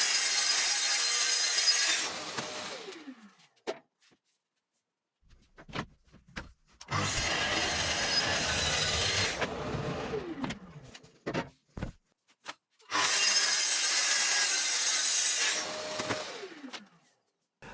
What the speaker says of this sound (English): cutting the shelves in pairs